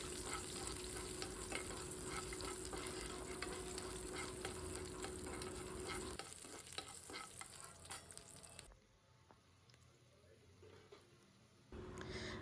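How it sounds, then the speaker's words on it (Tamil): Pieces of ginger and garlic cloves fry in a kadai with a steady, close sizzle and stirring; the sizzle drops lower and quieter partway through before briefly rising again. "அதே கடாயில் ஒரு நாலு துண்டு இஞ்சி நாலு பல் பூண்டு போட்டு அதையும் வறுத்து எடுத்துக்கலாம்"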